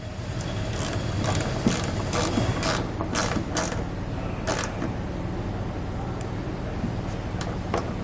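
A 5 mm Allen key turns a bolt on a DeeZee tailgate assist kit fitted to a 2019 Ford, giving faint mechanical creaks and clicks under a steady hum.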